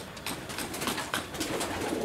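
A young chick from a bird breeder's aviary in Jogja calls repeatedly while held in the hand, close and fairly loud, a string of soft cooing chirps.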